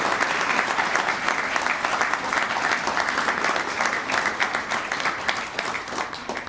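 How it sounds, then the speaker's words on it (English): Sustained audience applause fills a room at the 2019 Kentucky Governor's Service Awards ceremony, a steady dense clapping that holds loud and even throughout with no talk over it. "Let's give a big round of applause to Master Sergeant Joanne Orr."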